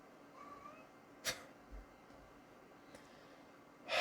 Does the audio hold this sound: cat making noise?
yes